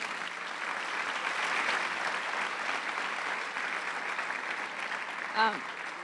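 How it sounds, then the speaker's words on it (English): A crowd applauds the school district and its students at a Super Scholars recognition ceremony, a dense, steady round of clapping that fills the whole stretch, with a brief voice rising near the end. "one big round of applause for the district and all the students, please"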